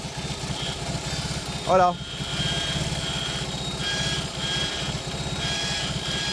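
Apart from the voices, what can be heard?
BMW motorcycle engine starting and idling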